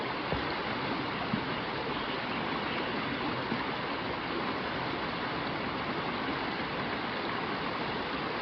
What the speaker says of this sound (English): Just laying here listening to water.